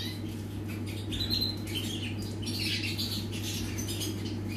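Many small birds, around 60 to 70 in an aviary, chirping and squawking together over a steady low hum, a busy continuous chatter without talk.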